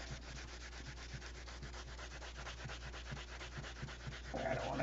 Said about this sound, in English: I could sand it with 600 and do it faster, but I stand a chance of scratching it